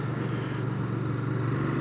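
A Royal Enfield Bear 650 motorcycle's engine holds a steady, close, loud drone with an even throbbing pulse, sustained and unbroken without speech.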